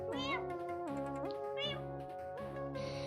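A person's voice imitates a cat, producing a string of drawn-out, sliding meows in a steady rhythm, close and clear over a faint musical background.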